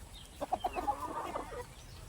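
Backyard chickens and chicks hatched from the flock's own eggs give a quick run of four or five clucks, followed by softer chattering calls that fade against a low background hum.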